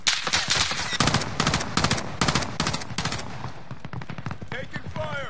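Automatic gunfire from the video game Call of Duty Warzone comes in rapid, loud bursts of shots separated by short gaps, fading into scattered lighter pops near the end.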